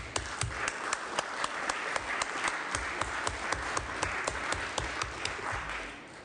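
Sustained applause in the Senate chamber, many hands clapping steadily in a dense, even patter that fills the room for several seconds with no voices over it.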